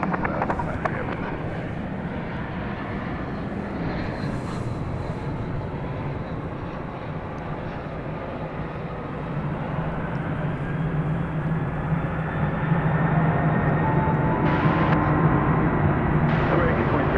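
A heavy UPS cargo jet takes off from runway 18 left at DFW Airport at night. Its engines give a broad, steady roar that swells gradually as it climbs, and brief voices are heard along with it.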